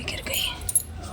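A bunch of keys jangles and clinks close at hand while a rooftop lock is being opened, a brief metallic rattle with a sharper click near the end and faint breathy voice in the background.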